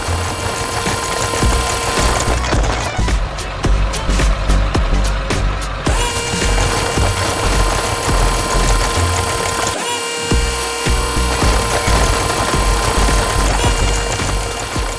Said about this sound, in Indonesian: Suara mesinnya begitu kuat saat menghantam batu.